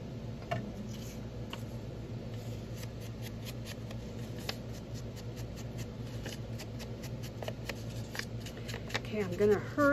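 Scissors trimming paper pages for a small rustic junk journal, with quick crisp snips and rustling paper repeating throughout, close by under an ongoing voice.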